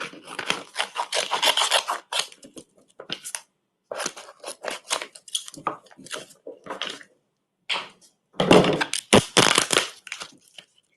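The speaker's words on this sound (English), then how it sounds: "I'm going to go ahead and trim that now so that I can save some of this excess material" Scissors or a blade trim excess heat transfer vinyl with a run of dry rasping, rubbing cuts in uneven bursts, close and fairly loud, with short pauses between strokes.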